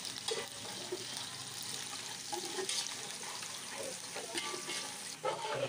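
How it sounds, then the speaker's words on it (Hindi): Onions browning in a pot with whole garam masala give a dense, close, continuous sizzle, with faint stirring scrapes now and then. There is no speech. "प्याज को अच्छी तरह से ब्राउन करेंगे। साबित गरम मसाला ऐड करते हैं।"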